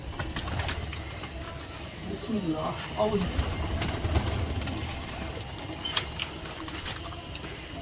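Teddy pigeons in someone's loft coo in soft, overlapping low calls, with someone speaking briefly near the start amid the gentle background murmur.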